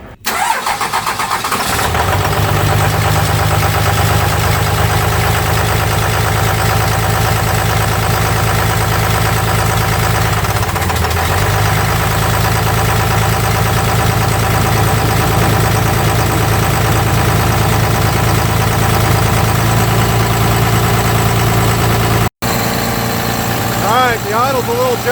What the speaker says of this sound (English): The idle's a little jacked up right now, but got it running, boys.